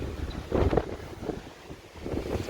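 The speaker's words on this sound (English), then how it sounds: "As you can hear, the wind is blowing today, but not as bad as yesterday" Steady 20 mph wind blowing outdoors, gusting in soft buffeting bursts against the microphone with no other clear sounds.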